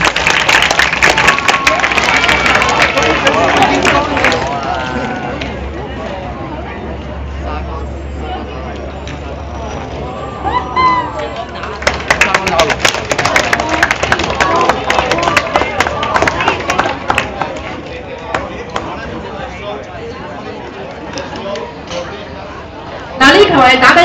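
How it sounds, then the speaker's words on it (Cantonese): A crowd at a badminton exhibition at the Hong Kong Open claps and cheers in waves, with a loud announcer and general hubbub talking over the applause throughout. "多啲掌聲會遠啲嘅喎。"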